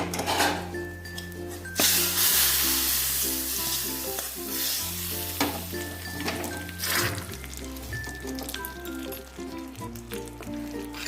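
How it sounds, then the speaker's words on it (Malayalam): Fried coconut seasoning is poured hot into a jackfruit seed and mango curry. A loud, broad sizzle and stirring bursts out in waves over soft tonal background music. "ഇനി നമുക്കിത് കറിയിലേക്ക് ഒഴിച്ചു കൊടുക്കാം."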